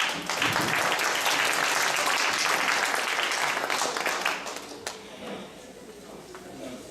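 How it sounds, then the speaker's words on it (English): An audience at a fundraising concert held at World Vision headquarters in Monrovia applauds in a dense, sustained wash of many hands that fades out near the end, with faint voices underneath. "So give yourself a clap."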